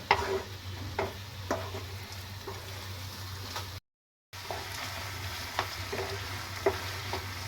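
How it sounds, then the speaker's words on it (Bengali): Semolina is stirred in a pan over medium-high heat while making upma, giving repeated scraping strokes over a soft steady sizzle and a low background hum, with a brief silent gap midway. "সুজিটাকে চারপাশে ভালো করে কিন্তু নাড়াচাড়া দিতে হবে"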